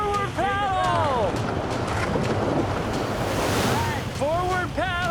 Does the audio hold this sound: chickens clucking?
no